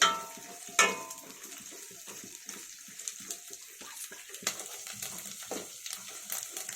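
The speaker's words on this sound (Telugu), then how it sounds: "లైట్గా వేగుతున్నాయి చూడండి ఫ్రెండ్స్." Nuts and raisins frying in a pan for sheer kurma, a soft crackling sizzle with scattered pops and stirring clatter, close and fairly quiet, with no talking.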